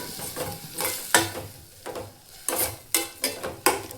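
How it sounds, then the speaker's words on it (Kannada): Tomatoes with salt and turmeric frying in a pan for a North Karnataka style green gram dish: a spatula scrapes and stirs in repeated strokes over a soft sizzle, close and fairly loud, no voices. "ನಾವು ಇದನ್ನು ಟೊಮೆಟೊ ಸಾಫ್ಟ್ ಆಗೋವರೆಗೂ ಫ್ರೈ ಮಾಡ್ಕೋಬೇಕು."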